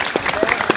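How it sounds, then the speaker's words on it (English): A brief burst of applause from an audience at a Fan Expo Toronto convention panel, several claps close together and then cut off, with speech faint underneath. "I don't know why that deserved an applause."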